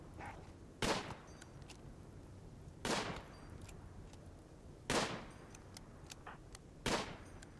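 Four sharp, evenly spaced gunshots ring out about two seconds apart during a RimWorld colony battle, each a crisp loud crack with a short decay, over a faint ambient background and no talk.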